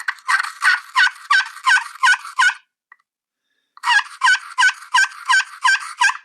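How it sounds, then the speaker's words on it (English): Turkey yelps struck on a slate call: two loud, close runs of about eight sharp rhythmic notes each, separated by a short silence, with no talking. "So here's the slate. Do some of the basic yelp here."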